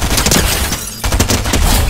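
Gunfire in the video game Fortnite, a dense, loud burst of repeated shots running through most of the two seconds with a brief gap near the middle.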